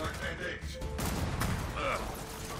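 Gunfire in the video game Gears of War 4, a dense burst of shots and impacts filling the whole stretch, loud and steady, with someone talking over it.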